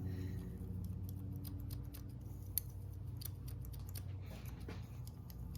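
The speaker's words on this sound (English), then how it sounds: "this technique, like scissors over comb. So when your comb goes like this, your scissors has to be the same direction." Scissors snip hair over a comb during a haircut, a quick run of small sharp clicks close to the microphone over a faint steady background hum.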